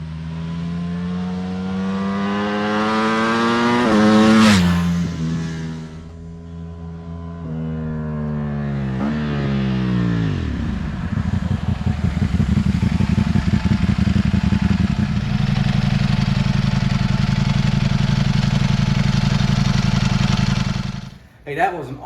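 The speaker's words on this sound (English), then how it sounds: "that was an awesome first ride on my Ducati 2024 V4" A 2024 Ducati V4 motorcycle engine revs up sharply, drops back, then rises and settles into a loud, sustained steady drone before cutting off at the end.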